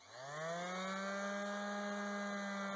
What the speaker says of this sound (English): now I'm going to use a sander to buff off or highlight the edges that need to be silver